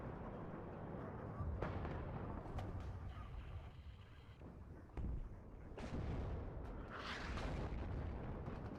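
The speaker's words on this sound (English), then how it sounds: "Artillery coming in here." Artillery fire in the video game WARNO: distant booms and sharp impact bursts scattered over a rumbling battlefield bed, a few louder hits standing out.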